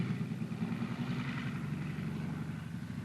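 A WWII US Army M2/M3 tank engine running steadily at raised revs, a loud, close mechanical drone with clattering texture and no voices over it.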